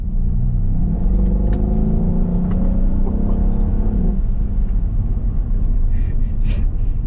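Mercedes SL63 AMG with 565 hp and 900 Nm, driving in comfort mode, a steady loud engine rumble with a rising drone that holds for about four seconds and then settles into a continuous cabin roar.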